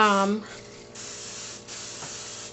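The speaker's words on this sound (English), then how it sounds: "non-stick cooking spray" A steady hiss of non-stick cooking spray from an aerosol runs for a couple of seconds with two brief pauses, just after a short voiced sound at the start.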